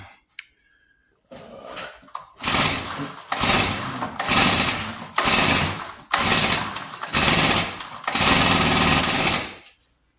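A vintage Hot Wheels gas go-kart's small engine is cranked and fires up, producing repeated loud bursts of revving with brief gaps between pulls, close by.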